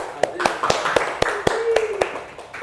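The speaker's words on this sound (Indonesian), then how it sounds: "tepuk tangan untuk Mbak Intan]], Ade Intan." A classroom group applauds a student during an Indonesian microteaching lesson: about nine sharp, separate handclaps in an uneven rhythm, fairly close and fading toward the end, with faint voices beneath.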